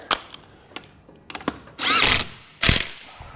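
A hand ratchet tightens a bolt on a 2003 Honda TRX 90 quad, with scattered clicks followed by two longer, louder ratcheting pulls close to the mic.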